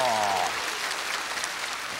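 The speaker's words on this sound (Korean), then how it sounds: "박수 주시기 바랍니다." Studio audience applause at a KBS National Singing Contest taping in Damyang County, South Jeollanam-do: dense, steady clapping fills the whole clip, with a brief tonal musical phrase at the start.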